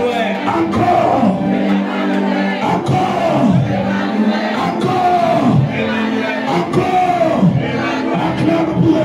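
A church crowd loudly acclaiming Emmanuel, many voices shouting and cheering together in repeated rising waves, close and sustained throughout.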